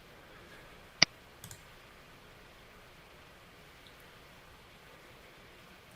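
A computer mouse gives one crisp click, followed a moment later by a faint double click, all isolated against a quiet background.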